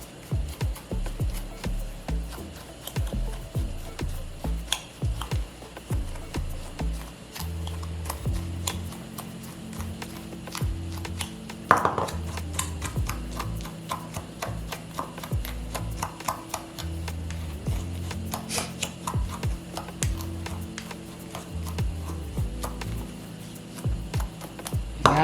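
Seasonings for a homemade seafood boil are stirred in a bowl with a small utensil, producing continuous rhythmic clicking and scraping taps close up, with one louder knock partway through.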